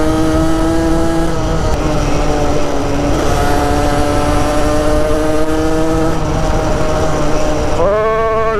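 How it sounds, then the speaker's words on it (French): Car engine revving hard and continuously while the clutch is slipped, the pitch rising and falling in strained sweeps before a sharp climb near the end, close and loud throughout. "je mange l'embrayage en faisant ça"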